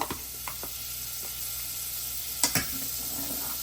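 Butter melts in a pan for pepper butter chicken, giving a steady close sizzling hiss broken by a few faint clicks of a spoon against the pan.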